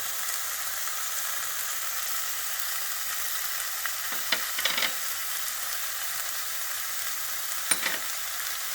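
Dry coriander, red chili powder and turmeric fry in a tomato and onion mixture for paneer methi malai, giving a steady even sizzle with a few brief stirring scrapes, close and with no talk.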